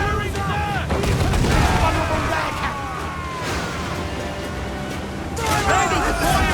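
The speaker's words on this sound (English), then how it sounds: "They are firing, sir!" Ship cannon fire in Assassin's Creed 4 Black Flag, a naval battle with repeated booming blasts and sharp reports crackling across the water, dense and continuous, with shouted voices underneath.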